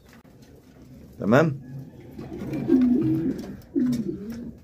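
Homing pigeons coo in low, throaty bursts, close and fairly soft, with wing flutter and someone speaking briefly amid the calls.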